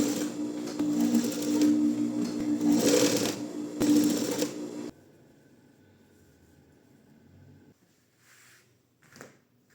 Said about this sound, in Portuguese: Vou passar uma costurinha aqui, olha, pra ficar mais ajeitadinho.